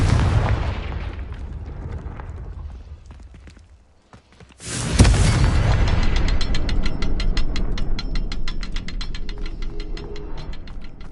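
In the video game Hogwarts Legacy, a Confringo spell fires with a sudden loud blast after a brief lull, followed by a rapid crackling, ratcheting burst and a rumbling tail.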